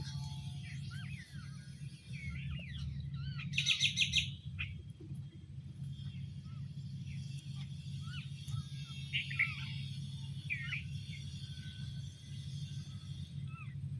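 Many birds chirp and call together outdoors, a dense overlapping chorus of short tweets with a brief louder burst near the middle, set over a steady low rumble.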